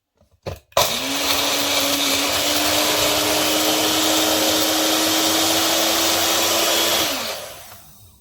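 A Magic Bullet Mini personal blender grinding eggshells roars loudly and steadily for several seconds, a gritty grinding whir with a constant motor tone, then spins down to quiet.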